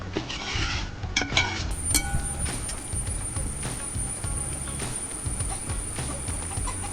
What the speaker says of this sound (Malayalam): അതിന് ശേഷം അത് നന്നായിട്ടൊന്ന് ഇളക്കുക.